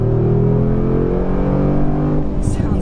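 A 2019 Mercedes-AMG G63 engine revs through side exhaust pipes with a deep, throaty rumble, loud and close, settling toward the end.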